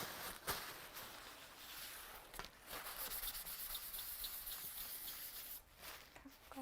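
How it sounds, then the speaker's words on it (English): Soft, very quiet scratchy rubbing of a tissue polishing clear embossing powder on a stamped surface, with repeated brushing strokes broken by short pauses, close up and with no voices. "you just get a tissue or something and then you polish it back"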